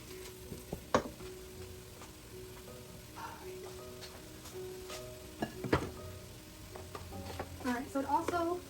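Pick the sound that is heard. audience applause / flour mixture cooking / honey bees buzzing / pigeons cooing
flour mixture cooking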